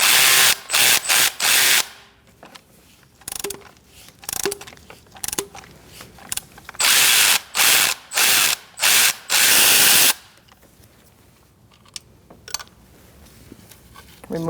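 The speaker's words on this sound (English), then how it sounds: "We're going to use an E10 socket for this lower bolt. and an extension." A ratchet fitted with an E10 socket and extension loosens a thermostat housing bolt on a 2008-2014 Mercedes-Benz C300 3.0, giving loud, close bursts of rapid clicking in repeated strokes, with brief talking in between.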